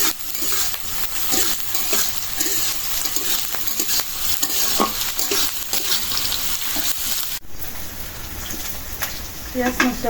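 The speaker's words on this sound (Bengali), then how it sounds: "শুকনো মরিচ ভাজা হয়ে গেছে এখন দিয়ে দেবো পেঁয়াজ কাঁচামরিচ" Onions and green chilies sizzle and crackle steadily in hot oil with fried dried chilies, with occasional stirring scrapes and a brief change in tone near the end.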